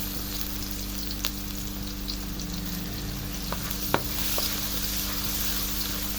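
Ginger sautéing in hot oil and a little butter for a coconut-milk seafood dish, a steady close sizzle with a few sharp stirring clicks and scrapes, no talk.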